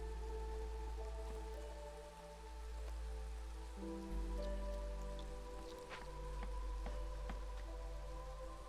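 Rain falling in the colony-builder game Against the Storm, a steady soft patter with faint drips over a low ambient hum and sustained game music tones, quiet and unbroken.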